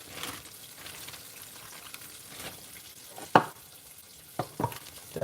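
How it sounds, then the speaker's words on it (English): A breaded crappie fillet fries in a pan of oil with a soft, steady sizzle, joined by a few sharper pops and clatters of cookware near the end; nobody speaks. "That is frying up nicely there."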